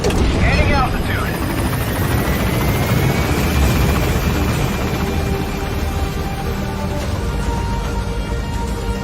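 A video game helicopter gaining altitude, loud steady rotor thrum and engine whine filling the whole stretch, with a voice talking over it.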